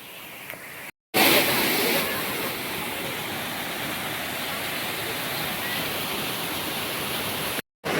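Small cascade of a mini waterfall at Kothapalli falls, a steady broadband rush of flowing water, loud and continuous throughout with two brief dropouts.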